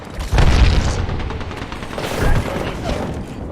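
A frag grenade blows up in a battle royale video game: a heavy boom, then a second burst about two seconds later, with clattering gunfire and game effects mixed in.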